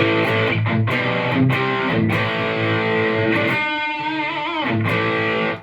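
A distorted electric guitar through an amp's overdrive preset plays a loud, gritty riff of chords and bent notes up close, with no voices.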